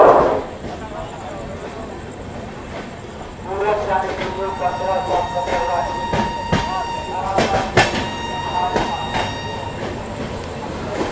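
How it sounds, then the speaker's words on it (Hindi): Amrit Bharat Express 22361 to Patna pulls out of Ara Junction in heavy rain, a rising rumble with rhythmic clickety-clack of wheels over rail joints and sharp clanks, loud and close, with a voice present. "निकल गई अपनी ट्रेन जो है अपनी अमृत भारत एक्सप्रेस आरा जंक्शन"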